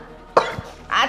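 A woman in a Gujarati family drama coughs twice: a sharp burst followed by a longer, rougher cough, close and fairly loud against a quiet room.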